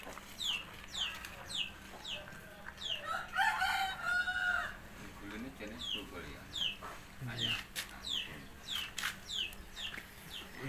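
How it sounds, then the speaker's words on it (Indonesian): A flock of chickens clucks steadily while a rooster crows once loudly partway through, with other birds chirping and some faint talk nearby. "Kolaborasi ayam dan sapi."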